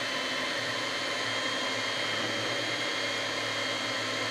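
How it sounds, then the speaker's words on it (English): Electric mixer whisks pancake batter at low speed, a steady unbroken whirring drone that holds level throughout with no talk. "so you just have that mixer onto the low level of speed"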